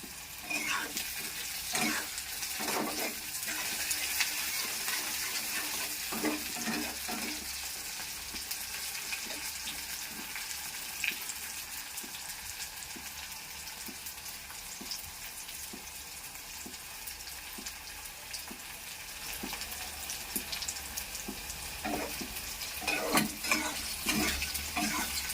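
Whole spices such as cinnamon and cloves fry in oil in a pan for chili paneer, a steady bright sizzle throughout with occasional stirring clinks and scrapes, close and continuous with no talk.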